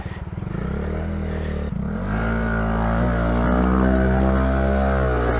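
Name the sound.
motorcycle revving through deep water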